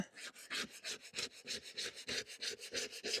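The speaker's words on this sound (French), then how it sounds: "pour bien gratter la zone où il y avait l'ancien joint" A scraper working over a surface to remove old sealant where a joint used to be, giving quiet, rhythmic rasping strokes at a steady pace, close by and alone.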